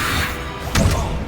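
Incendio fire spell cast in Hogwarts Legacy, a short loud whooshing burst with a heavy thud in the middle of dense game noise.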